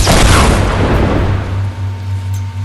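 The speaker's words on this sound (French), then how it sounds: "Tire de roquette." Rocket launcher explosion in the video game Fortnite: a loud broadband boom at the start that decays into a rumbling tail, with a steady low hum underneath.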